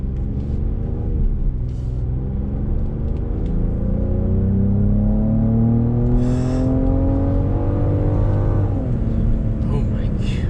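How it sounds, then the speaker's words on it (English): A Genesis GV70 engine heard from inside the cabin as it accelerates, a muffled, low rumbling note that climbs steadily through the gears, with a shift-like dip near the end under a constant road roar. "the engine note is pretty muffled in this car"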